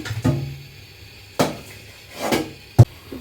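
A nola fish is chopped with a blade, four sharp separate knocks of the cutting strokes against a board, close and unhurried with quiet gaps between them.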